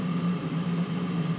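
A cheap Chinese 5 kW diesel heater runs steadily up close, giving a constant low droning hum with a faint whir over it, with no talk.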